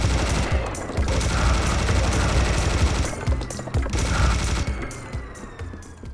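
Sustained minigun fire from Serious Sam: The Second Encounter, a loud dense rattle of rapid shots that runs almost unbroken for several seconds, with a short dip near the middle.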